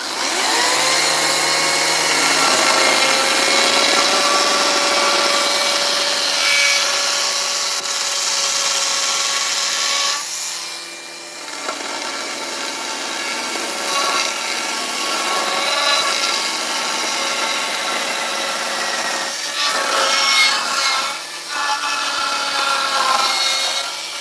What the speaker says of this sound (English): I keep forgetting I'm using this electric saw